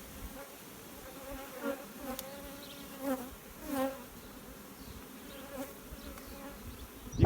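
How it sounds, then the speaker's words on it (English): Honey bees swarming a busy apiary during a drone-rearing setup, a steady close buzz with several louder passes of individual bees flying near, no voices. "There's bees everywhere."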